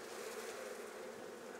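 Honey bees from a hive being removed from a chicken coop buzz in a dense, steady swarm drone, close and continuous with no voices.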